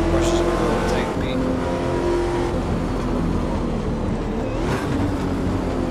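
A Porsche race car on a track day roars past with a steady, loud engine drone and rising and falling pitch, while other cars add layered engine noise and a voice talks faintly.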